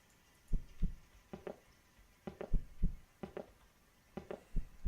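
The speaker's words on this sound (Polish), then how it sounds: "Tu bicie serca." A slow, muffled heartbeat thumps in paired beats, deep and steady, repeating several times with quiet gaps between.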